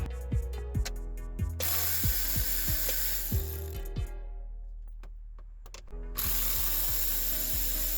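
An electric ratchet with a small extension and 5.5mm socket removes a bolt from a 2007-2009 Chevy Equinox steering column, giving several close, loud bursts of rapid motor whirring and clicking separated by short pauses.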